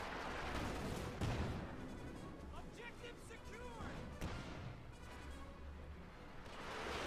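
An artillery barrage in Company of Heroes 2, Wehrmacht against US Forces, with rolling distant booms and crashing impacts under steady game noise while a commentator talks over it.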